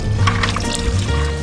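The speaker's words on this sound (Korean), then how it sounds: "통에 이불을 넣고 개울물을 부어주면" Stream water is poured into a tub holding a blanket for an outdoor wash, a continuous splashing, gurgling fill with low sloshing underneath.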